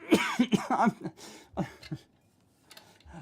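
A cluster of harsh coughs close to the mic, one after another, then two more short coughs after a pause, with quiet room sound at the end.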